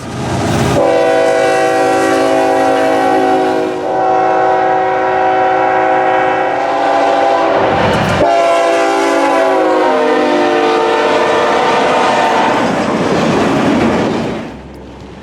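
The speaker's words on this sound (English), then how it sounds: "Take for instance this horn, the Nathan K5HL" A loud, sustained Nathan K5HL multi-tone locomotive horn blares for many seconds, briefly pausing and resuming, with a harmonic chord that shifts slightly before fading.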